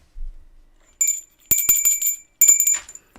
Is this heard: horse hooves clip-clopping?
no